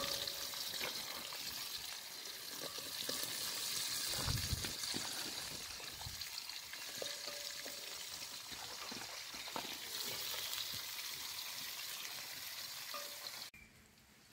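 Onions fry in a pan for devilled shrimp, giving a continuous moderately faint hiss of oil with occasional soft stirring knocks, heard alone until the sound cuts off at the end.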